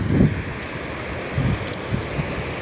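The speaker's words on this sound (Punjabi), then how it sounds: "ਇਹ ਤਾਂ ਪਾਣੀ ਜਾ ਰਿਹਾ ਪਾਣੀ ਕਿੰਨਾ ਸਾਫ ਹੈ" Canal water rushes in a constant broad wash, with gusts of wind buffeting the microphone now and then.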